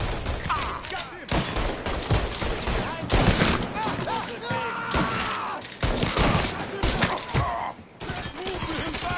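Gunfire in Mafia 3, rapid bursts of shots and fusillades cracking close by with splintering impacts, mixed with shouting voices during a chaotic firefight.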